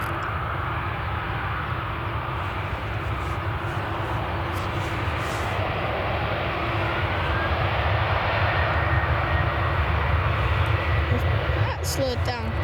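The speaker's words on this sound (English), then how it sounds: "Reverse thrust going in now. Just slow the aircraft down." Airliner landing at Manchester Airport with reverse thrust engaged, a loud sustained engine roar that swells slightly as it slows, heard from a distance with a person talking over it.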